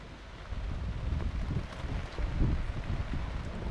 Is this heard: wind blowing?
yes